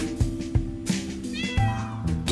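Cat meowing in a London-set detective video game, several short meows in a row, fairly loud and close over a steady low game music bed.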